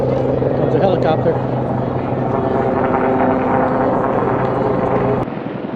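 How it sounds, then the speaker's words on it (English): A helicopter passes near a cruise ship in Alaska, its steady rotor and engine noise heard against wind, with people talking over it before the sound drops off. "Comes a helicopter."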